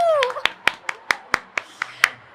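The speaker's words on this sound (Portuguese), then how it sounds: "Palmas pra ela, gente!" Sparse clapping from a small audience at a Bienal do Livro book fair talk on people management, about nine separate sharp claps in an uneven rhythm, with a voice briefly audible at the start.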